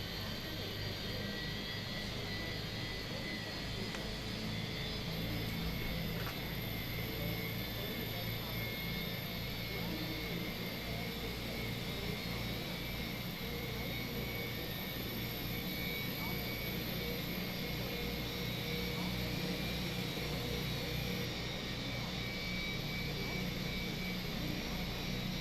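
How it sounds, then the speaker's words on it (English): Airbus A320 IAE jet engines in Microsoft Flight Simulator 2020 make a continuous, steady roar with a high whine layered on top, unchanging for the whole stretch, with no talk. "This is the IAE engines."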